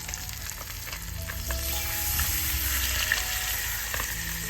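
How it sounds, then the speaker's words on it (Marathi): A whole fish fries in a pan over a wood-fired stove, a steady close sizzle and crackle with faint clinks, running evenly throughout with no voices. "चला आता यांना मस्तपैकी फ्राय करून घेऊ आपण"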